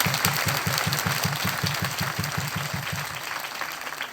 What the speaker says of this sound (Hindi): हमें प्रोत्साहित करने के लिए जोरदार तालियां बजाएं